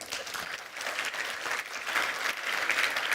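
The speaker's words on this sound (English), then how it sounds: "a round of applause to our panelists and to Hugh" A conference audience at a wealth-tech event in Singapore gives panelists a round of applause, a steady dense wash of many hands clapping throughout, moderately loud and continuous with no pause.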